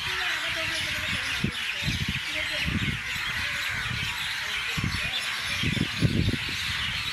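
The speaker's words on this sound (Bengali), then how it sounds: "পাখির সাউন্ড, ও আমেজিং।" Several birds call in a wildlife sanctuary, a steady mix of chirps and louder honking calls over a dense natural background, with bursts of calls recurring throughout.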